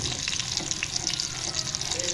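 Boiling water poured from a vessel into a pot while cooking quarenta, a traditional northeastern Brazilian dish, making a steady splashing gush that runs evenly throughout, with faint voices in the background.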